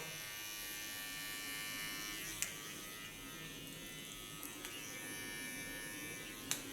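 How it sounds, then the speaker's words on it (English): A hair clipper trims the hairline during a short platinum blonde haircut, giving a steady, fairly quiet electric buzz throughout with a few light clicks. "Adjusting the line with my clipper."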